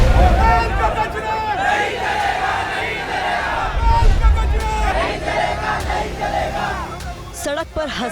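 A dense crowd of thousands of protesters in Pithampur, near Indore, chants and shouts slogans on a street, loud and continuous with overlapping voices and rising bursts of yelling throughout.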